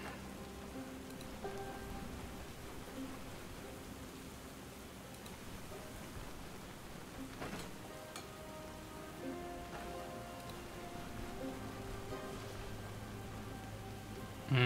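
Steady rain falling in the fantasy role-playing game Stoneshard, a soft continuous patter with occasional faint ambient game tones, no speech over it.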